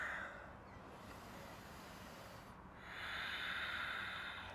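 Slow, steady breathing through a Power Vinyasa yoga pose, a soft airy hiss that swells into a stronger exhale near the end, close and quiet, with no talk.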